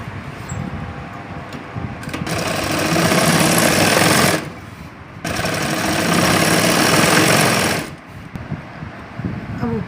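Sewing machine stitching lehenga fabric for a designer bridal lehenga, running in two long, loud, steady bursts of several seconds each, separated by short pauses with fabric handling, no talking.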